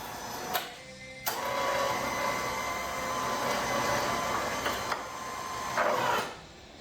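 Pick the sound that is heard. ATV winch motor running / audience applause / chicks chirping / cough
ATV winch motor running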